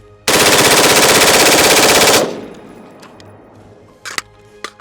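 An automatic rifle fires a rapid, unbroken burst of rounds for about two seconds, very loud and close, then a fading echo and a few faint clinks and knocks follow.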